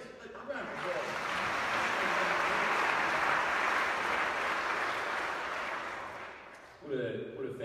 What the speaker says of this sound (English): No, please, round of applause.